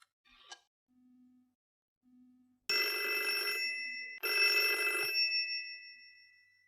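An old-fashioned telephone bell rings indoors in two loud, shrill bursts of about a second and a half each, with a brief gap between them, following a few faint tones and near silence.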